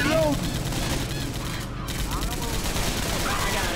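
Rapid machine gun fire from the video game Left 4 Dead 2 rattles continuously in dense bursts, with voices talking over the shooting.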